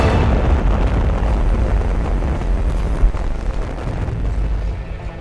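A supernova explosion sound effect: a dense, roaring rumble of heavy low boom sustained throughout, loud and continuous with no distinct separate blasts.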